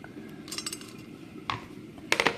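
Pieces of dried raw mango rattle and clink inside a small jar, in brief bright bursts over a steady background hum.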